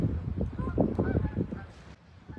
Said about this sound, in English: Can you see those geese right over the water?